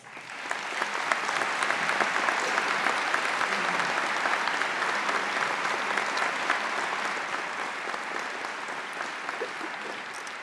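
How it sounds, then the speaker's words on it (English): A commencement ceremony audience claps in sustained applause, a dense, steady wash of many hands that swells in the first second and holds at an even level throughout, with no voices standing out. "So please give them a round of applause"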